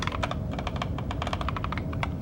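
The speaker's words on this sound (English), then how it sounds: "Keyboard typing." Rapid, steady computer keyboard typing, close and fairly loud, with crisp irregular keystrokes filling the whole stretch and no voices.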